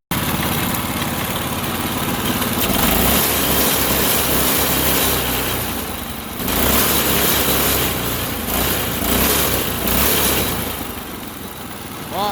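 Honda GX200 engine on a mini go-kart idles steadily outdoors, a loud, continuous small-engine putter with slight dips and surges in revs, no talking.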